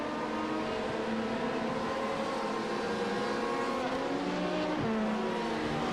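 Race cars lap Road Atlanta during the 1000 km GSI endurance race, a loud continuous engine roar with layered tones and one car's pitch dropping as it passes near the end, with no voices.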